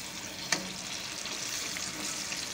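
Crispy KFC-style chicken fries in oil, giving a dense, even sizzle with a single sharp utensil tap near the start.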